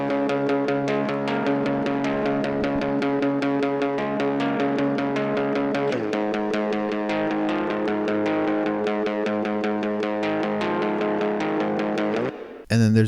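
A distorted electric guitar plays a fast, steady chugging riff with a chord change midway, ending in an abrupt cutoff.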